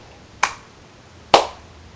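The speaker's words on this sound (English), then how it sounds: "And what is the sound of one hand clapping after all?" Two sharp, crisp snaps or single-hand claps ring out close by, almost a second apart, each decaying quickly into quiet room tone.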